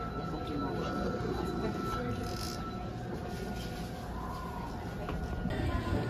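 A red metro train in Osaka runs with a steady, moderately quiet rumble, with faint wheel squeal and rail noise throughout the ride.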